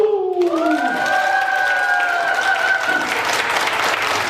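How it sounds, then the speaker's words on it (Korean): Residents and guests at a nursing home concert in Uijeongbu burst into congratulatory applause, the close, loud clapping swelling and filling the room as a held musical tone fades beneath it. "다 같이 자축의 박수!"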